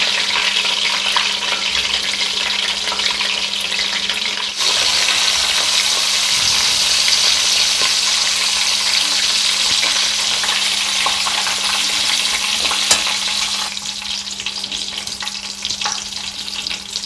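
Chapli kababs of raw minced meat fry in a pan over low heat, giving a loud, continuous close sizzle with a steady hiss that barely changes throughout, no voices.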